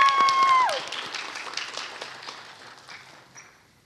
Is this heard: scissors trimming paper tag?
no